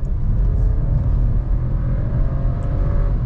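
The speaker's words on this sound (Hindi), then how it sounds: "5800 RPM के आसपास में जो है ये जाता है और उसके बाद में से अपशिफ्ट कर देता है।" A Skoda Slavia 1.0L engine in sport mode revs up toward about 5800 RPM before upshifting, a continuous loud cabin drone and rumble that holds steady, with no talking.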